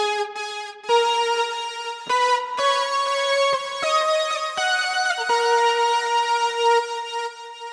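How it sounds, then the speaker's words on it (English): A synth string tone with filter effects from a Line 6 POD HD Pro, playing bright sustained notes with sharp attacks in a slow melodic line, loud and clear with no voices. "for this one, I used the synth string and the filter effects."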